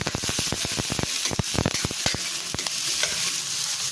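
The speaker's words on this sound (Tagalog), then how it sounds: "mayroon tayong bawang sibuyas. Pagsabayin lang natin yan, mga idol. At sakutsa muna natin." Garlic and onion sautéing in a hot pan, a loud close sizzle broken by quick clattering stirs of a utensil, rapid at first and then sparser, with no speech.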